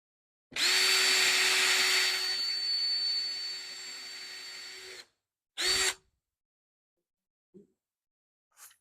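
A power drill whines loudly for about four seconds and slowly loses pitch, then gives a brief second burst, followed by a couple of faint taps.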